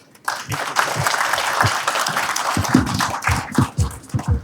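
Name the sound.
audience applause for Vishesh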